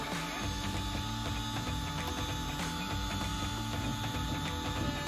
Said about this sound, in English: If I turn the knob to the left, counterclockwise, the bed will lower